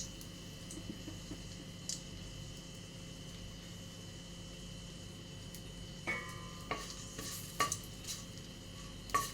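Whole spices, dried red chillies and cardamom, frying in ghee for basanti pulao: a soft, steady sizzle with a few sharper clicks and scrapes of stirring near the end.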